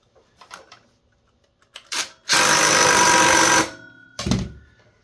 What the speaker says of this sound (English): And we're just going to tighten all this down.